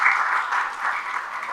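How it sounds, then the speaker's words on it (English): Conference audience applauding during a PMI Sub-Saharan event, a steady wash of many hands clapping at moderate level for the whole stretch with no distinct individual claps standing out. "round of applause"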